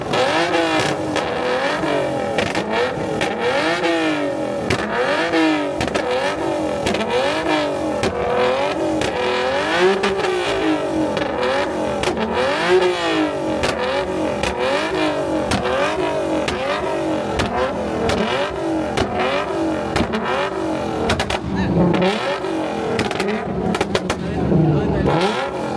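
Car fitted with a Nissan VQ V6 engine revving hard on a two-step launch limiter at an import face-off rev battle, a loud continuous crackling, stuttering roar with rapid pulsing throughout, crowd noise underneath.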